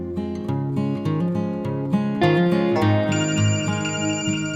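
A phone rings with a melodic, repeating electronic ringtone, loud and close, playing alone with no talk over it.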